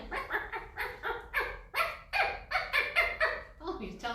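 A small dog barks in a rapid string of about a dozen sharp, excited yaps, close and loud, during a library story time session.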